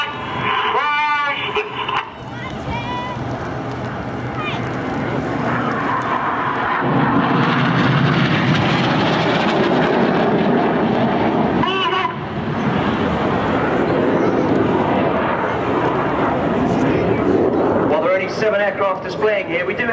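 Red Arrows jets of the Synchro Pair flying past at the Farnborough 2012 air show: a loud, sustained engine roar that swells and holds for most of the stretch, with a voice heard over it.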